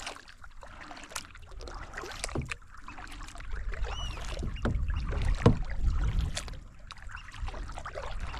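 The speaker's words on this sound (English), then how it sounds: "Nice day for a kayak." Kayak paddling on calm water on a fine day, with soft splashes, drips and trickles from the paddle blades at a close, uneven rhythm over a low outdoor rumble.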